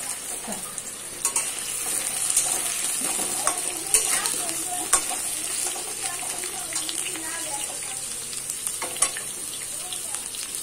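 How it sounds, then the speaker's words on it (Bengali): Potatoes fry in a wok with a continuous close hiss and crackle. Stirring clatters now and then, and voices murmur faintly in the background. "তো এইবারে ভাজবো মাংসের আলুগুলো"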